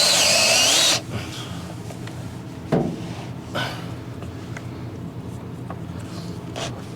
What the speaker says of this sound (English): It's just hard to get leverage behind the drill.